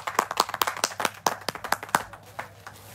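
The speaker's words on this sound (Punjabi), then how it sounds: "ਇੱਕ ਵਾਰੀ ਫੇਰ ਤਾੜੀਆਂ ਜੀ" Hand clapping of a small group at a live clothing-sale stream cheering a donor, sparse and uneven with distinct sharp claps in a loose rhythm, tapering off near the end.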